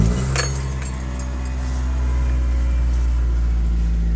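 A 20-year-old small car's engine idles steadily and close by, a continuous low rumble with a light rattle early on and no talk over it.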